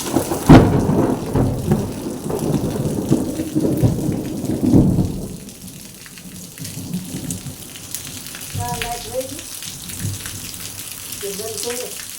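Heavy rain pours steadily while thunder rumbles loudly in the first half, then eases to softer rain with faint voices speaking in the background.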